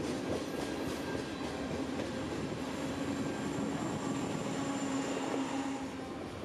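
A train rolls past on the S-Line in Central Florida, a steady rumble with faint wheel clatter and a held tonal hum that stays even throughout, with no voices.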